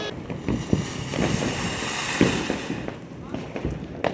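A Diwali flower pot firework (pushwanam) burning, a continuous loud hissing spray with crackling bursts outdoors, while people talk around it.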